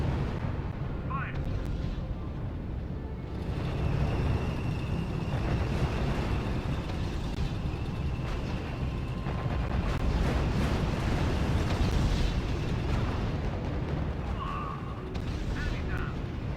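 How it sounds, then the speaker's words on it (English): Field artillery battalion firing in the strategy game R.U.S.E., a dense, continuous rumble of distant cannon shots and booms layered over battle noise, with voices talking over it. "Sir, the Field Artillery Battalion is opening fire."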